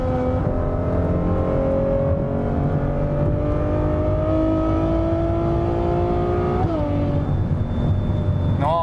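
Ferrari F12 Berlinetta 6.3 V12 heard from the cabin, engine note climbing steadily under acceleration, then a quick downshift blip around the seventh second and a renewed rising pull.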